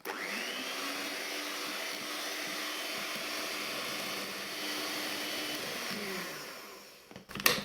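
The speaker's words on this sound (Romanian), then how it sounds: "Renunțăm la mixer." An electric mixer beats eggs for a cake batter with a steady, loud motor whir that holds for about six seconds, then winds down and stops near the end.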